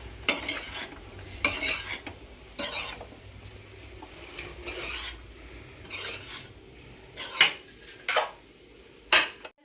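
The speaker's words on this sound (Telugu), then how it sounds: "వేసాను కదా, మంచిగా మిక్స్ చేసుకోండి." A metal spoon stirs and scrapes egg fried rice in a large kadai, with repeated rhythmic scraping strokes against the pan and a faint sizzle underneath, close and fairly loud with no talking.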